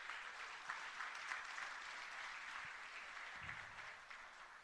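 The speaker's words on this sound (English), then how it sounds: "Give them a round of applause." Audience applause at the SANRAL SAICE 2022 National Awards ceremony, a dense, steady wash of clapping from a large crowd that holds evenly for several seconds with no talking over it.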